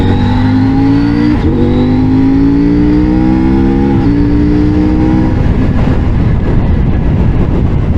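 A CFMOTO 800MT motorcycle in sport mode pulls hard from 30 to 100 with a quick shifter, its engine note climbing steadily in pitch with brief dips at each upshift, loud and continuous with rising wind roar toward the end.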